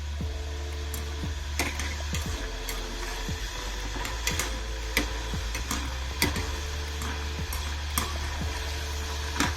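Uppu seedai dough balls fry in hot oil for a Janmashtami festive recipe, giving a steady bubbling hiss with scattered sharp ticks and pops throughout.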